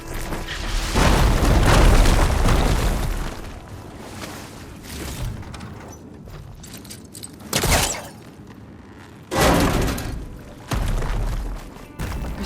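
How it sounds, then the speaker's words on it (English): Fire gleam deposits blowing up in Horizon Forbidden West, a long heavy rumbling blast followed by several shorter, separate booming bursts spaced apart, loud and close. "Should be able to blow up that fire gleam."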